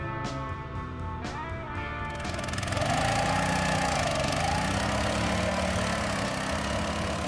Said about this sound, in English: And the simplest and cheapest ATV bike with 7 HP engine and centrifugal clutch.